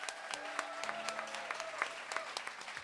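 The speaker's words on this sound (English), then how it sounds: "Give them a huge round of applause for what they do." Applause from an audience in a hall, a moderate spread of scattered claps heard at a modest distance, with faint crowd murmur beneath.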